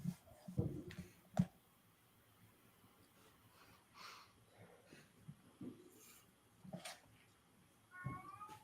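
A cat calls from downstairs, faint and distant, with a few soft meows and scattered knocks in a quiet house and a short clear meow near the end.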